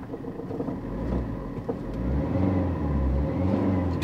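A 2005 Citroen Xsara Picasso engine, fitted with a quiet starter and a slightly worn engine mount, settles into a low, rattly idle that swells a little louder partway through, heard close up with no talking.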